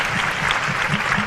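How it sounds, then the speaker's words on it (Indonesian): A student audience of high school student council leaders in Jakarta applauds in steady, dense clapping, loud and close, sustained evenly throughout with no pauses. "Beri tepuk tangan semua yang benar."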